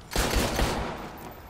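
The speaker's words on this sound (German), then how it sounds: "Oh, da schießt jemand." A brief volley of gunshots in Dead Rising 3, a few rapid reports close together, moderately loud, then a fading reverberant tail with no voices.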